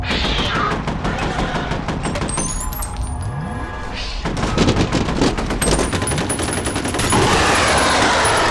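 Rapid automatic gunfire in the shooter game F.E.A.R., a dense continuous stream of loud shots with metallic tinkling and other effects layered over the top.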